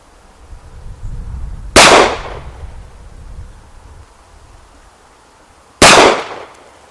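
Two sharp, loud shots from an H&K USP 9 pistol crack several seconds apart, each with a brief ringing tail, over low outdoor rustle.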